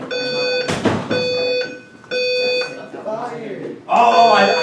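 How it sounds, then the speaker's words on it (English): A fire alarm system being tested in an MIT building gives a few loud, shrill electronic tone bursts broken by short gaps, with people talking in between. "MIT is testing the building's fire alarm system"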